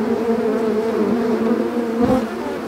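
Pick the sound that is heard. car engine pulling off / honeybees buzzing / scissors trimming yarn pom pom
honeybees buzzing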